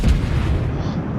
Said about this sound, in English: so I'm just going to fire one gun.